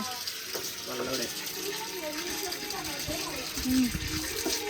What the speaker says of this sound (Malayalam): കാലൊക്കെ നേരെ കഴുകുന്നുണ്ട്